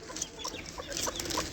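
Hens clucking in short, scattered bursts, fairly close, over a steady background hiss, with no talking.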